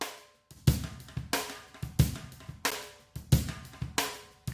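Drums run through the Zynaptiq Unfilter plugin play a steady repeating beat, bright snare cracks and kicks with crisp tails, close and moderately quiet, with no one talking.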